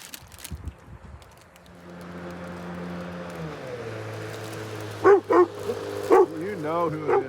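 A dog at a remote off-grid Alaskan cabin lets out several sharp, loud barks in quick bursts near the end, over a steady boat motor drone and some quiet talk.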